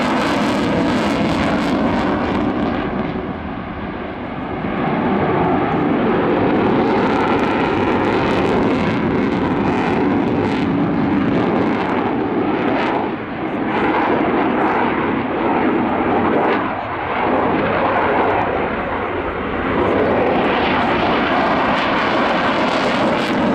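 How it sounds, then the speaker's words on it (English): A huge heavy fighter jet takes off at the RIAT 2018 airshow, its engines sending out a loud, continuous roar that swells and dips slightly over about twenty seconds, with no voices. "this is an absolutely enormous aircraft. It got airborne now with a takeoff weight for its display."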